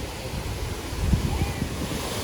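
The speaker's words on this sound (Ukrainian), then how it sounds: "Водичка тече." Water flows from a mineral spring in Daylesford, Australia, a continuous broad rushing sound with low gusty buffeting, probably wind on the microphone, and a few soft thumps midway.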